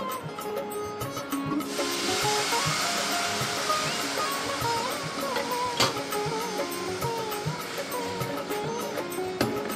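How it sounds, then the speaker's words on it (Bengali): Water is poured into a hot pan of dried tea-leaf hair dye mixture, bursting into a loud rushing hiss that settles into steady bubbling steam for several seconds. "এইবার আমি এর মধ্যে জল দিয়ে দেব"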